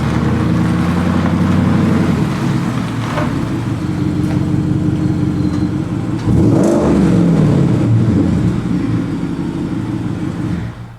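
Ford Raptor R pickup revving inside a small tunnel, a loud, echoing engine roar sustained throughout with a sharp rev surge midway before tailing off.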